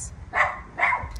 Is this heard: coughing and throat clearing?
no